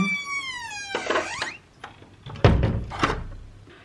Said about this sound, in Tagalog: Nakakatakot yung tunog ng pintuan.